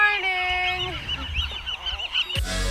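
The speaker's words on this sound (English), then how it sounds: "we're camping overnight in Channel Islands National Park with thousands of seagulls" Seagulls on Anacapa Island in Channel Islands National Park give loud, harsh honking calls, several overlapping nearby, followed by a sudden rush of wind or handling noise at the end.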